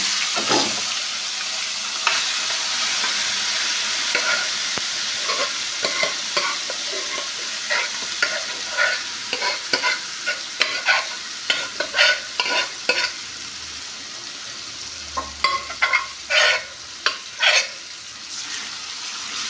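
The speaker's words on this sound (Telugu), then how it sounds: "వేసుకొని బాగా కలుపుకొని చూడండి, ఇలా బాగా కలుపుకోండి." Mashed dal being stirred into a raw mango curry in a pan, with steady scraping and stirring strokes over a soft sizzle that grow into louder, distinct clacks of the spoon toward the end.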